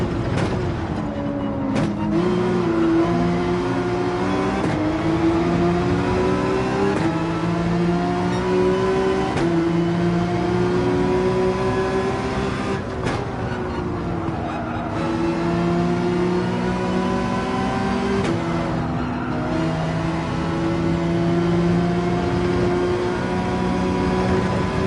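A race car engine in Gran Turismo 7 on Dragon Trail, droning loudly and steadily, rising and falling in pitch as it accelerates, with brief dips at gear changes and a continuous close whine throughout.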